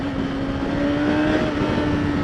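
A 2016 Yamaha R6 motorcycle engine pulls hard in second gear, a steady, loud, high-revving whine with a strong sustained tone and constant wind rush, heard close up and without speech.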